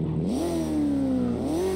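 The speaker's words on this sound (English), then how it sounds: "three-cylinder sound that you would expect the car to have" A three-cylinder car engine in the video game CarX revs with a throaty, buzzy tone, pitch climbing, dipping slightly, then rising again as it accelerates, steady and close throughout.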